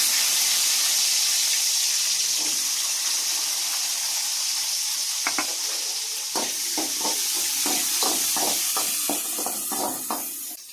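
Mustard and fennel seeds crackle in hot oil under a steady hiss, then chopped onions go in and a spoon scrapes and stirs in a quick, rhythmic series of clinks; no voices are heard.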